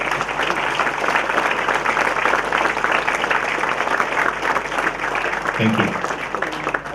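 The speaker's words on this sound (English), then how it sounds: "I want you to applaud your parents who are right here." Audience at a graduation-style ceremony applauding their parents, a steady dense wash of clapping that fills the whole stretch, with a brief spoken thanks over it near the end.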